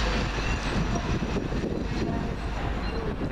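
Virgin Trains East Coast HST power car 43257 roars steadily past at Peterborough station, a dense continuous rumble of engine and rolling wheels, close and sustained with no talk.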